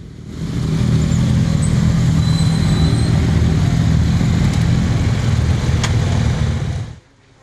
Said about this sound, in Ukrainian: Мотоколоною з трохи більше ніж 10 мотоциклістів байкери рушили вулицею Петропавлівської до Сумського обласного центру служби крові